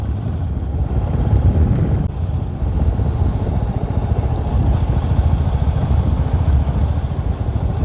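A Royal Enfield Classic 350 Chrome Bronze motorcycle rumbles low and steady while slowing under engine braking, its engine note mixed with constant wind buffeting on the microphone and no talking.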